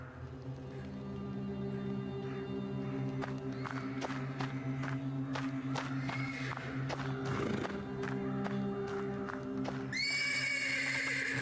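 In the Black Book video game, a horse in the stables neighs and whinnies persistently, with hooves shuffling and clopping on the ground and a brighter, sharper whinny near the end, all close and without speech.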